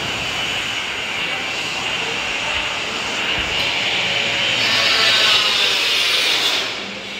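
Continuous loud machine drone from floor work at a temple under construction, a steady grinding roar that swells slightly before easing near the end.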